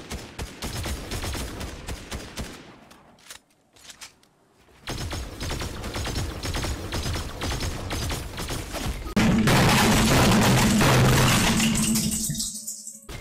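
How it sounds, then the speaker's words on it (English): Rapid Fortnite gunfire rattles in dense bursts, a short lull before more sustained automatic shooting, ending in a louder, harsher stretch of continuous fire and impacts. "I'm getting shot from behind"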